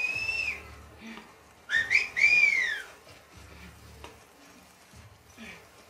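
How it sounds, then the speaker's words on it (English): Enemies whistling to each other in The Last of Us Part II, a few clear rising-and-falling whistled signals, one short then two longer, with low rumbling game sounds beneath. "when they whistle, they just telegraph their position"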